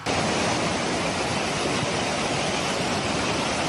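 Rushing floodwater of the Inhulets river after a strike on a dam, a dense, unbroken roar of churning water, loud and steady throughout.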